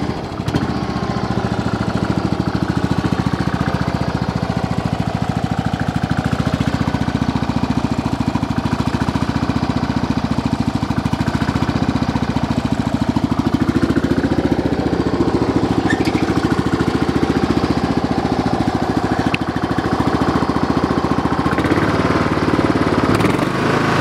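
A Kohler small engine runs continuously for about twenty-four seconds, giving a loud, steady mechanical drone with a rapid knocking pulse and slight rises in pitch as it revs, close by and with no talking.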